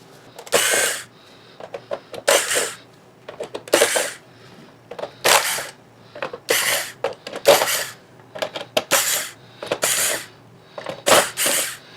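Snips of side cutters clipping through a worn cable on a grimy Cherry keyboard during restoration, a series of sharp metallic clicks repeated in bursts, close and fairly loud, with no talking.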